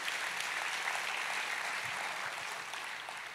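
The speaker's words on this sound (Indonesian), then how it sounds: "tepuk tangannya yang meriah buat Tuhan kita" Steady, fairly faint applause from a church congregation, continuous patter fading slightly toward the end.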